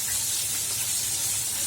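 Flour-coated fish fillet frying in hot oil, a steady, dense hiss and sizzle that stays even and fairly loud throughout, with no talking.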